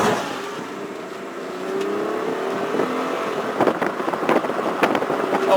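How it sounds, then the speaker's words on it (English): A 2000 Hyundai Sonata GLS V6 with automatic transmission pulls away, its steady engine note rising smoothly as it gathers speed, with a few light clicks and knocks from inside the car. "the V6 engine and the automatic transmission in this car are very smooth"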